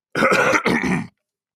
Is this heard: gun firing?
no